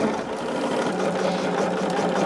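A sewing machine stitches a quarter-inch seam with a steady, fast, continuous mechanical whir and rattle, close and even throughout.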